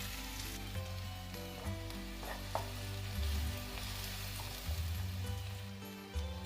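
Sliced onions sizzle and crackle in hot oil with ginger and garlic in a pan on the stove, a steady close frying hiss with occasional stirring knocks and no voices.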